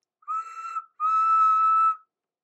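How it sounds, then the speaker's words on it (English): Steam engine whistle blowing two blasts, a short one followed by a longer sustained tone, clear and alone against silence. "At last, they heard a whistle in the distance."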